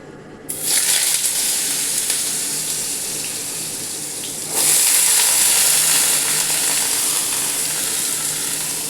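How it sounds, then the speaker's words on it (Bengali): Panch phoron spices frying in hot oil in a wok: a steady, bright sizzle that starts abruptly and continues, then grows louder and more intense midway, with no talking. "কড়াতে তেল দিয়ে দিয়েছি, দিয়ে দিচ্ছি একটু পাঁচফোড়ন।"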